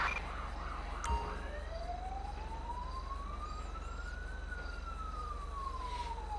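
A slowly wailing ambulance siren from the game GTA V with the LSPDFR mod rises and falls in a long sweep, moderately faint beneath a constant low engine drone.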